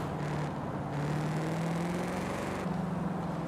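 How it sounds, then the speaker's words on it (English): A Ford Mustang GT350 V8 cruising in Forza Horizon 5, a steady low engine drone that holds a sustained pitch with slight rises and shifts, fairly loud and alone. "Oh, the GT350 engine. I like the sound of it, man."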